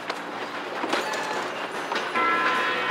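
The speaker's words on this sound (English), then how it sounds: "We have to stop this train!" A train rumbles steadily in Red Dead Redemption 2, a dense mechanical roar of a moving locomotive and cars with faint rail clatter, loud and continuous throughout with no talk.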